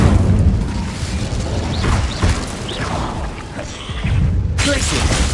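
A fiery Incendio spell blast booms in a Harry Potter game inside a cave, a burst of crackling, rumbling noise that swells and fades amid other effects, with a second surge near the end.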